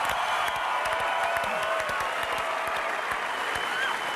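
A studio audience claps and cheers for a world surfing champion, a dense, steady wash of applause with faint voices underneath throughout.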